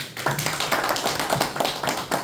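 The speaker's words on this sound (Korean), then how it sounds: "네, 큰 박수 부탁드리겠습니다" Audience clapping at a bus workers' union election rally in Ulsan, a steady close wash of many hands that holds for the whole stretch, with no talking over it.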